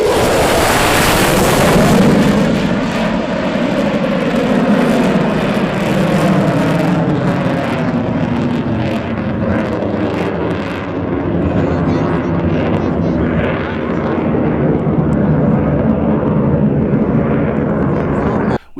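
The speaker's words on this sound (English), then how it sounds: "The F-15 was like the Cadillac of fighter planes." An F-15 fighter jet passes low overhead as a loud, broadband roar that swells early, then holds a steady rushing drone across the whole stretch, with wind buffeting and excited voices partly under it.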